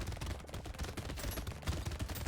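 SMG fire in the video game Brotato crackles as a dense, rapid stream of rattling shots, steady and fairly faint throughout with no talking.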